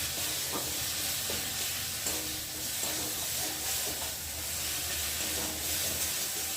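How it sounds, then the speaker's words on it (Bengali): Masala for chana dal being stir-fried in a pan, a steady close sizzle with scraping spatula strokes at irregular intervals, no talking. "ভালো করে মশলাটাকে কষিয়ে নেব"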